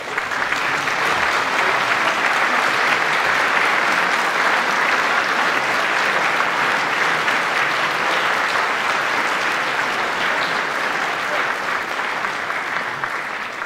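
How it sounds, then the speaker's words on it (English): Graduation ceremony audience applauding the families, a dense, steady wall of clapping from a large crowd that holds at full strength throughout with no break. "Please stand. Look around, see them,"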